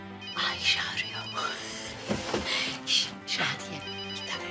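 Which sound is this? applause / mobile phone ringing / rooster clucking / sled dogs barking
mobile phone ringing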